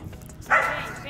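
A small dog gives one sharp, high bark midway through, close by and fairly loud, while people talk before and around it.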